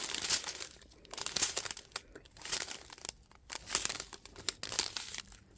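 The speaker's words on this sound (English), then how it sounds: "Sorry if you don't like the crinkling, but diamond painting channel." Plastic packaging from a Diamond Art Club diamond painting kit crinkles in repeated rhythmic bursts during an unboxing, close and fairly quiet, with no talk.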